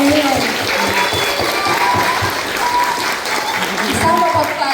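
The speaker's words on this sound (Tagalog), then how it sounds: "Kids, one more clap for our Vice Mayor and our Mayor." Schoolchildren clapping at Manila City Hall for the vice mayor and mayor, a steady burst of many small hands applauding together at close range, with voices mixed in underneath.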